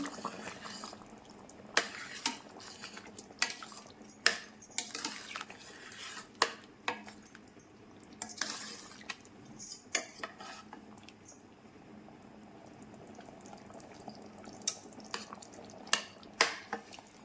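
A spoon stirs spiced mutton and cucumber curry in a metal pot, giving intermittent clinks and scrapes at close range over a faint simmer, with a few quiet gaps between strokes.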